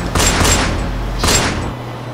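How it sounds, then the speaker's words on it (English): Gunshots fired in a film scene, two loud bursts of rapid booming shots close by, separated by a short gap. "Letting off shots."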